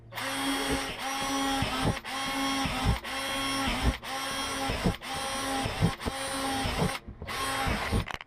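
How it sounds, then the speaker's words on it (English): A power drill bores holes in the bottoms of plastic worm bin trays, in a run of steady whining bursts, each about a second long, with brief stops between holes. "So we're going to start by drilling holes in the bottom of the 2 trays where the worms are going to be housed"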